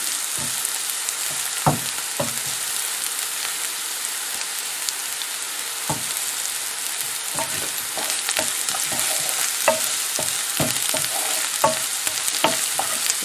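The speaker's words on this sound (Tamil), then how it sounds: "வதக்குவோம். கொஞ்சம் நல்லா வதங்க விடுவோம்." A curry mixture sautés in a frying pan, with a constant close hiss of sizzling oil punctuated by frequent sharp scrapes and taps of stirring.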